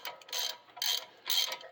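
A ratchet works loose an Allen-head brake caliper bolt on a 2018 Dodge Durango during a front pad job, giving three quick bursts of close, crisp clicking with short pauses between them.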